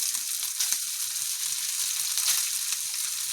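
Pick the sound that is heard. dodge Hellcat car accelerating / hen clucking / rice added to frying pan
rice added to frying pan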